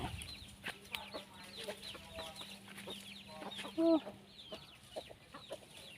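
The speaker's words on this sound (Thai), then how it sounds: "ไก่" Chickens cluck repeatedly at a rural homestead near areca palms, a loose chorus of short calls with a louder squawk near the middle, alongside faint ambient noise.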